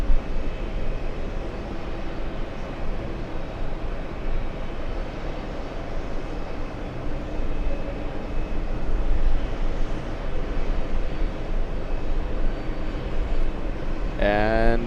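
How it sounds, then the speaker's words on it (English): A JetBlue airliner inbound from Boston on final approach at JFK, a steady distant jet rumble and whine holding throughout, with a voice briefly at the very end. "The next one to come in, we're gonna be zooming into a JetBlue flying in from Boston, Massachusetts"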